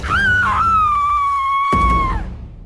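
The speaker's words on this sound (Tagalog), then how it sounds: "Lo, narinig niyo ba yun? Mukhang may taong sumisigaw ah!" A long, loud, sustained scream with a wavering start holds steady for about two seconds, then trails off, heard alone without talk.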